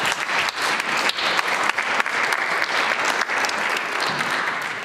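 A hall audience at a choir festival breaks into warm applause, a dense, even roar of many hands clapping that stays loud and steady for several seconds before easing slightly at the end.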